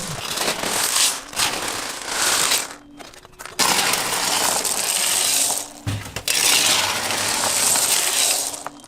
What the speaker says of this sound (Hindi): ऐसी ही बहुत सारी कलर्स की कैंडीज इस फैक्ट्री में बनाई जाती है, जिन्हें एक साथ हाथों से मिक्स किया जाता है